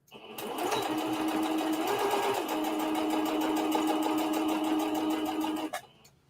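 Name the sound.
sewing machine straight stitching jeans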